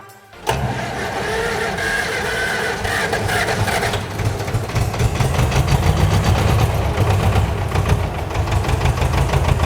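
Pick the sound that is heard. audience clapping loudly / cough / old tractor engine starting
old tractor engine starting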